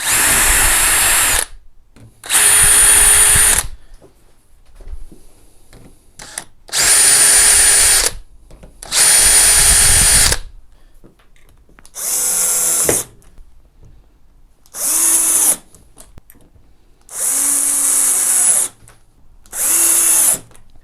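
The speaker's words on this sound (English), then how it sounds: "So you only have to spike it with the drill bit, it doesn't have to go in very far." Repeated short bursts of a power drill fitting concealed door hinges, about eight in all, each a loud steady whine with brief gaps of quiet in between.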